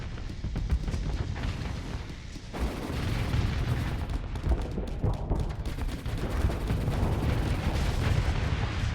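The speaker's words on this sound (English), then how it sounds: "These missiles are here to do the damage." Missiles fire and explode in rapid, dense succession in the space combat game Starsector, a rumbling barrage of booms and crackling blasts that is loud and continuous throughout.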